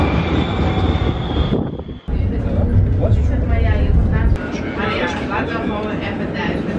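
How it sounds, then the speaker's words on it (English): Steady rumbling and rattling of a tram in motion in Amsterdam, with a brief squeal and a sharp clunk partway through, while people talk over it. "now we're gonna take a tram for the first time here"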